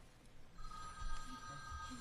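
A computer ringtone imitating a telephone trills in thin repeated rings, faint and slightly distant against low room noise at a planning commission meeting.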